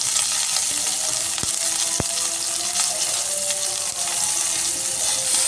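Cauliflower pieces frying in a pan with turmeric, a loud, even sizzle throughout with two sharp clicks of a utensil early on.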